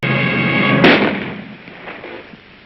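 A single loud gunshot cracks sharply and rolls off into a fading echo, heard close and alone with no talking.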